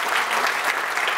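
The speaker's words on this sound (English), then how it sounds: "that is really, I think, worth a round of applause" A short burst of applause, many hands clapping at once in a dense, even patter.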